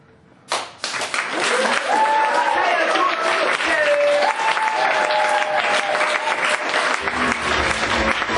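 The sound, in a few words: comedy club audience applause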